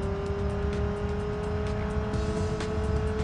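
The spy car in SpyHunter 2 accelerates with a steady, loud engine roar and a constant whining tone that sounds close and continuous throughout, without talk.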